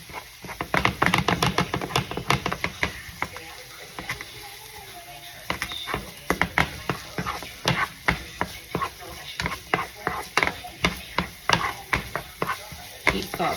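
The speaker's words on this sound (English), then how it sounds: "I am back and I sauteed my veggies" Vegetables sauteing in a skillet over medium-high heat while being stirred: a continuous soft sizzle under repeated sharp scraping and clacking strokes of a utensil, irregular at first, then settling into a fairly steady rhythm.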